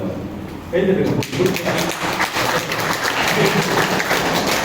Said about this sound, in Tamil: பிடிச்சிருந்தா மட்டும் கைத்தட்டுங்க